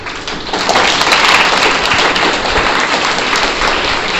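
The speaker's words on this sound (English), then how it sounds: "so you can clap for them" Schoolchildren in a ninth-grade history quiz class clap for classmates who gave a right answer, a loud, close, continuous patter of many hands lasting about four seconds with almost no talk over it.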